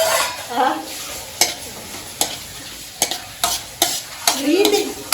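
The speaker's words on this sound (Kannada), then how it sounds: "ಬೆಣ್ಣೆ ಹಾಕೊಂಡು ಈರುಳ್ಳಿ ಎತ್ತಬೇಕು" Onions fry in butter in a pan for a spicy home-style chicken fry, giving a steady sizzle broken by several sharp spatula scrapes and clanks as they are stirred, close and fairly loud with no talking.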